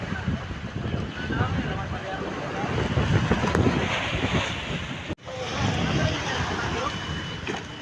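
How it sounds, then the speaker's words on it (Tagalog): A boat engine drones as a service boat approaches across open sea, a steady low hum under constant wind and wave noise, with someone talking over it. "Rinig natin ang antar ng makina."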